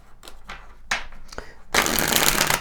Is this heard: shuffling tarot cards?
yes